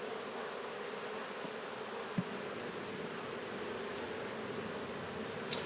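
Honey bees at an open-air hive with brood frames and incoming pollen make a steady, dense buzz close by, with only a couple of faint ticks above the drone.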